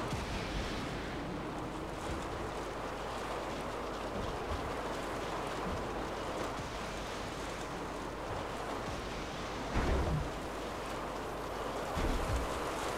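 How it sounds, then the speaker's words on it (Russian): A steady, roaring wind sweeps across the desert in the Mad Max video game, a broad continuous rush with slight gusting swells that fills the whole stretch with no talking. "Здесь, по-моему, звук ветра все закрывает"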